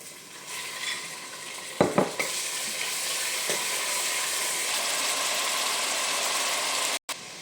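Beef frying with garlic and onion in a pan, a steady broad sizzle running throughout with a few sharp stirring clinks early on and a brief dropout near the end.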